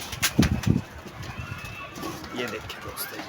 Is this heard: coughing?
no